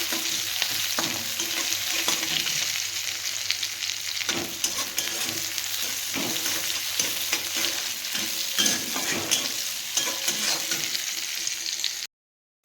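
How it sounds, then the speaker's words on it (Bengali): Chopped garlic, green chilli and onion fry in a pan with a constant close sizzle while a spoon stirs and scrapes at intervals; no one speaks, and the sound cuts off abruptly at the end. "দিয়ে দেবো রসুন কুচি কাঁচা লঙ্কা আর পেঁয়াজ কোচানো ভালো করে এটা নেড়ে ফেলে"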